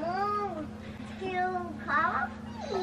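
A kitty meows several times on a chilly morning, bright rising and falling calls close by, over a steady low hum.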